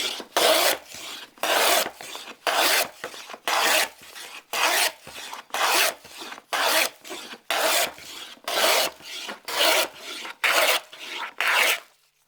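Scrub plane taking fast, heavy strokes along wood stock: about fourteen rasping passes in a steady rhythm, each a loud burst with short pauses between, close up and with no talking.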